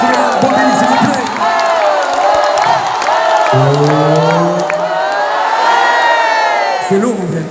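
Loud concert crowd at a tour show, sustained cheering, whooping and shouting from many voices, with scattered applause running through the whole stretch.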